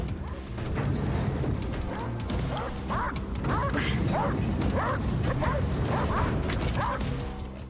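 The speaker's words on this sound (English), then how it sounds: "Is that an actual dog barking, or is that the machine?" Bomb dogs in Wolfenstein: Youngblood barking repeatedly in a rapid series of yips and woofs over constant crashing, rumbling game noise, with no speech.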